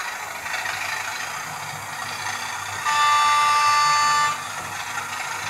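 A ViTrains Class 37 model locomotive sounds its horn through a tinny onboard speaker, one sustained nasal tone lasting about a second and a half over a steady mechanical hum, close and fairly loud.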